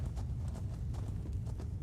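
Horse hooves clip-clopping at a steady trotting rhythm in the video game Elder Scrolls Online, a continuous soft patter of repeated hoofbeats over a low rumbling background.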